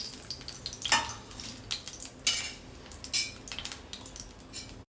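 Something frying in oil until reddish for a drumstick chutney, heard as a soft sizzle broken by repeated scraping clinks of a metal spoon against the pan.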